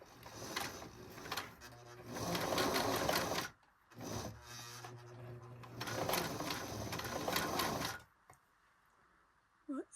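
A Singer 533 sewing machine running a zigzag stitch, two loud close bursts of rapid mechanical whirring and clatter separated by a brief stop, then quiet with a few small clicks.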